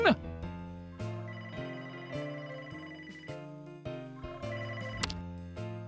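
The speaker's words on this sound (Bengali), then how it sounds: "ও ফোন সব সময় বেজেই চলেছে, বেজেই চলেছে।" A cartoon telephone rings over and over in a steady, bright, repeating bell pattern, loud and close, with a brief voice at the start.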